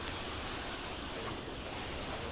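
Water sprayed over a coated car at a detailing demonstration, a dense continuous hiss of spray that stays even and close throughout the short burst, with no talk.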